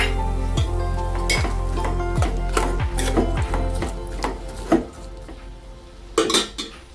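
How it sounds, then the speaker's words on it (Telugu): Tomato pieces with salt frying in a pan for an egg and drumstick curry, with the clatter of a metal spoon stirring against the pan over a steady sizzle, the scraping bursts loud and close. "ఇప్పుడు దీంట్లో కొద్దిగా సాల్ట్ వేసుకుని అలానే టమాటా ముక్కలు వేసుకుని ఫ్రై చేసుకుందాం."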